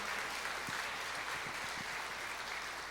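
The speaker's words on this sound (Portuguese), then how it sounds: "E você pode aplaudir, agradecendo a Deus por essas vidas" Congregation applause during a church service, a faint, even roar of many hands clapping at a distance, steady throughout its three seconds with a few low thumps underneath.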